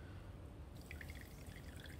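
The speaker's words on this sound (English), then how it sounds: "Fold up the corners and squeeze out that moisture." Water from grated potato squeezed in a folded cloth while making a full English breakfast, faint trickling and scattered small drips, quiet and close, with no talk.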